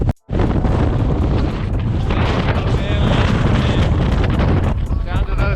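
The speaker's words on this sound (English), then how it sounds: "Way too windy to go up that ridge." Strong wind buffets the microphone on the summit of Silver Peak, Colorado, in a constant, heavy roar with low rumbling gusts, loud and unbroken throughout.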